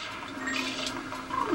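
Water splashing and spraying in the video game Super Mario Sunshine, a soft gushing, flushing rush that swells slightly toward the end, fairly quiet.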